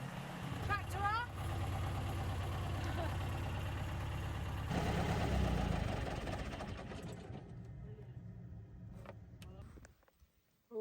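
A tractor engine runs at a steady, loud idle during work on a bridge rebuild, with voices over it; the engine drone fades after about six seconds and cuts out near the end.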